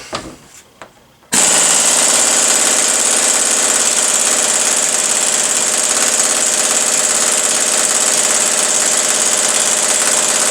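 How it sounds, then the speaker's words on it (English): Air compressor with a regulator set to 90 psi kicks on after a second of quiet, then runs loud and steady with a constant motor drone and rapid pumping knock right up close. "I'm going to wait for the air compressor to charge all the way up"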